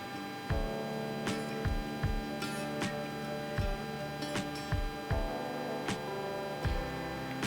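A sewing machine stitches a kurti seam at half an inch, running in short regular bursts with a steady motor hum and rhythmic ticking of the needle, close and fairly quiet.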